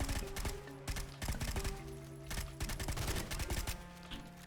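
Rapid bursts of submachine gun fire with scatter shots in a video game, loud and close, stuttering in repeated volleys with brief gaps between them.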